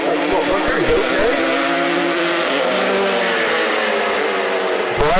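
Racing motorcycles roar past at a race meeting, a loud continuous engine howl with shifting pitch that swells again near the end, under a commentator's running talk.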